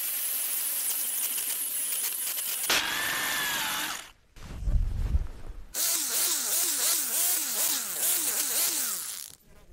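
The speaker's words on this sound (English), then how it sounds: "Now diamond method, second speed, core bit. Dry drilling, go." A diamond core bit dry-drills into granite with a heavy perforator, giving loud, harsh grinding and whining bursts that stop and restart, including a deeper rumbling stretch and warbling, oscillating grind, close up with no talk.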